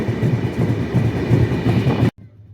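Ruposhi Bangla Express running onto the Kashiani line toward Narail, a loud steady rumble and rhythmic wheel clatter heard from on board, cutting off abruptly near the end to near silence.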